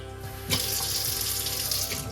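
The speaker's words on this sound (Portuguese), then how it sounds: "Aqui, as torneiras têm água quente" Tap water runs steadily into a sink in a rented first home in Ireland, starting with a sudden gush then a continuous close, bright splashing stream with no talk.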